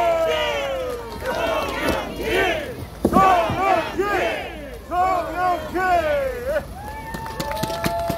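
A crowd at an election campaign rally in Naju Innovation City shouts and cheers in loud, close, repeated bursts of massed voices.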